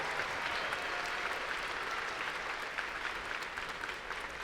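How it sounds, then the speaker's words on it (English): Steady, dense applause from a large crowd at a FIRST robotics state championship, continuous clapping at an even level throughout with no voices standing out. "a huge round of applause"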